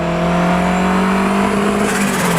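Custom-built 1984 Nissan Skyline DR30 RS-X Turbo engine revving loudly, a close, sustained droning growl with steady tone that rises slightly near the end.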